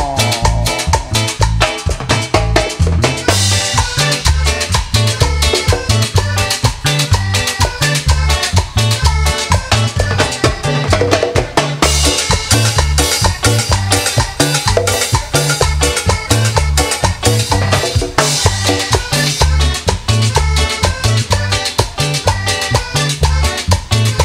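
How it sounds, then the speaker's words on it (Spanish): A Salvadoran band performs live cumbia music onstage, with a steady driving rhythm of percussion and bass under brighter melodic instruments, loud, dense and continuous throughout. "vamos a iniciar con sabor a cumbia"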